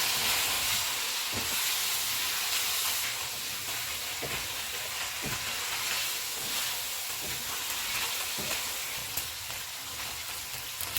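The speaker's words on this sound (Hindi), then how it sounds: "सब्ज़ मिर्चें, अदरक, धनिया और इनको 1 मिनट तक पकाएंगे।" Green chillies, ginger and coriander cooking in a black pepper chicken karahi, a steady soft sizzle and hiss with occasional faint clinks, no one speaking.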